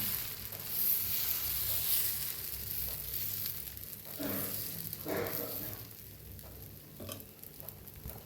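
Dosa batter sizzles steadily on a hot pan as it is spread out in a thin round, with soft scraping swirls near the microphone and a constant hiss throughout.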